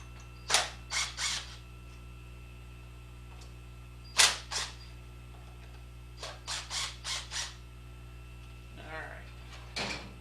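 The bottom screws of an SCWT Thermed salt shaker are backed out, producing close, crisp ratcheting clicks in a few short bursts separated by pauses over a steady hum.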